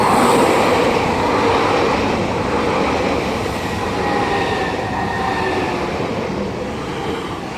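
A Class 395 high-speed train pulls into Ebbsfleet International station on HS1, a loud, steady rumble of rolling stock with faint wheel tones, swelling slightly and then easing as it slows alongside.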